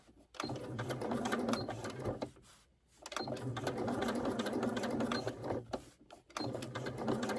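A sewing machine stitches vinyl for a handbag, running loud and steady in close, continuous whirring runs broken by two short pauses.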